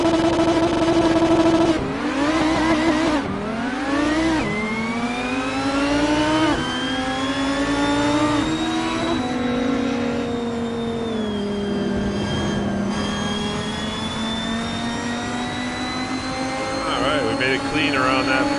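A race car engine in Assetto Corsa revs and shifts repeatedly, pitch climbing and dropping through the gears in a loud steady drone, with someone talking over it.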